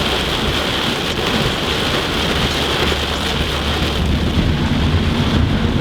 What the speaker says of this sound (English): Look at this crazy rain.